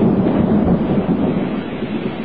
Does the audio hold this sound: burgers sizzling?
no